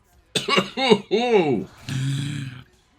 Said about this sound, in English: That was me actually coughing there